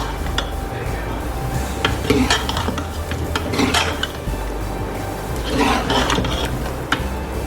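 A spoon scrapes and stirs chopped cauliflower and mutton in a cooking pot, with irregular metallic clinks and scrapes over a soft sizzle, while a person speaks now and then.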